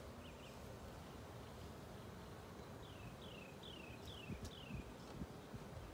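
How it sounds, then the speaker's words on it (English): Honeybees from a hived swarm mill around an open wooden hive box during an inspection, a faint, steady buzzing hum with a few bird chirps in the background. "There are a lot of bees"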